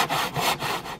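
A handsaw cuts through an aircrete block in quick back-and-forth rasping strokes, about four close, loud, gritty pulls in a second with no voices.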